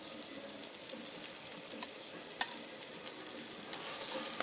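Spaghetti frying in a cauldron while being stirred, a dense continuous sizzle with scraping and clinking of the utensil, close up and steady, no talking.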